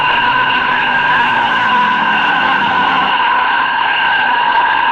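Race cars at the Circuit of the Americas, a loud sustained tonal whine with strong harmonic bands, like tires squealing or engines screaming at high speed, continuous for five seconds with no voices.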